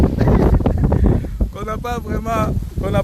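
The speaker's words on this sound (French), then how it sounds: "Il y a un vent terrible" Strong gusts buffet the microphone outdoors, a low blustery rumble that dominates the opening and then continues beneath a person talking.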